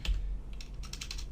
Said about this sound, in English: it's quite a bit of typing to begin with